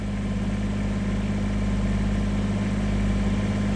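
A Kubota BX23S compact tractor engine idling steadily nearby, a continuous low, even rumble with a faint mechanical hum and no voices.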